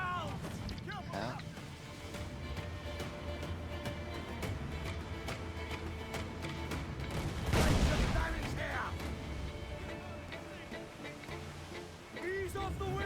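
Naval cannon fire from sailing ships in the pirate game Assassin's Creed IV Black Flag, with one big booming blast amid constant wind and ocean surf, under shouted voices and talk throughout.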